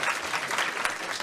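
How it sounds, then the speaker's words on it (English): An audience at a climate summit session gives a round of applause. The clapping is dense and steady, fills the whole short moment at an even level, and no voices come through. "All right, round of applause."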